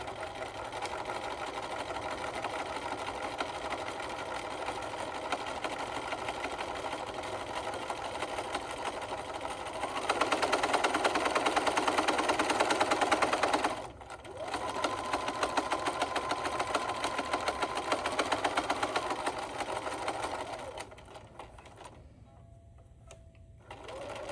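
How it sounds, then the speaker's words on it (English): Sewing machine running steadily while top stitching fabric near a turning hole, a continuous close mechanical whir that rises louder midway, pauses briefly, resumes, then winds down near the end. "Now I'm just gonna go in and top stitch."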